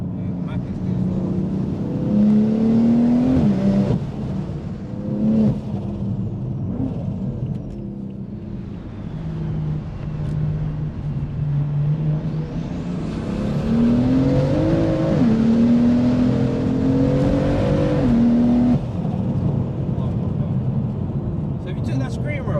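A 700 hp single-turbo BMW M4 engine idles and rises and falls in short throttle blips, with a loud, steady drone and rising revs; people talk over it now and then.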